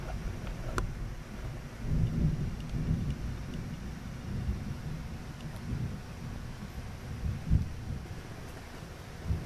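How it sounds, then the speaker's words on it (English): Rolling thunder from a thunderstorm, a deep continuous rumble with a couple of louder swells, heard alone with wind and light rain noise. "Oh, that's a good thunder."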